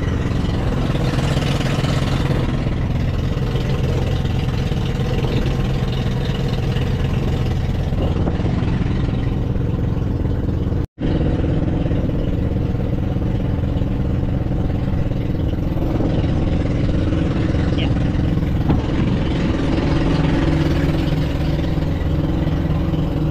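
A boat engine near Fortune Island runs at a steady, loud drone with a rough, clattering rumble, broken once by a brief gap partway through.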